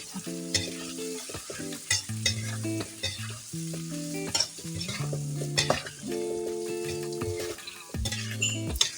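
Steady sizzling of salted fish frying in a pan with turmeric spice paste, a utensil scraping and stirring through it and occasional clinks against the metal, close up.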